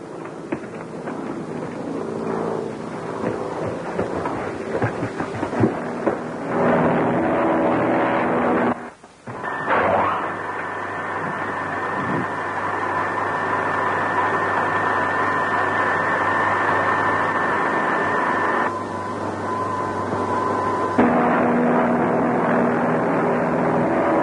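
Propeller airplane engines drone steadily in flight in a 1935 Marines action serial, a loud continuous roar with wind noise that briefly cuts out near the middle, then resumes at full strength.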